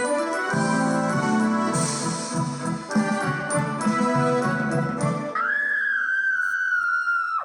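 A person whistles a lively, wandering tune over backing music, then holds a long, steady high whistled note to finish.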